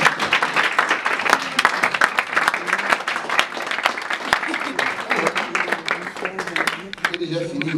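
A church congregation claps and cheers loudly to acclaim the Lord, a dense continuous applause with voices mixed in throughout.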